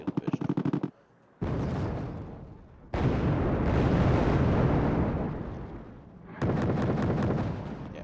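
Heavy bombing-raid explosions in the Wargame strategy game, loud booming blasts and rumbling detonations that roll on in long bursts, separated by brief gaps, with rapid crackling fire at the start and end.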